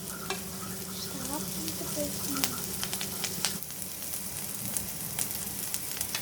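Onions sizzling and frying in a pan while being stirred for Maggi noodles, a steady crackling hiss with scattered sharp pops and clicks of stirring, fairly close and continuous throughout, no talking.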